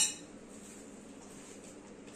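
Meat stirred with black pepper, tomato paste, salt and red pepper in a pan: one sharp metal clink at the start, then soft, steady scraping, faint and close.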